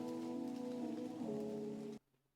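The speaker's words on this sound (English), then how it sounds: "I'm going to add some raindrop sound effects, just for the background." A rain sample layered into a rap beat, steady hiss of falling rain blended with sustained tonal notes, running evenly and then cutting off abruptly to near silence.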